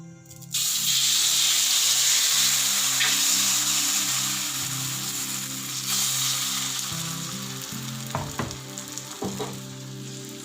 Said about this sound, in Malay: minyak dah panas kita boleh masukkan adunan kita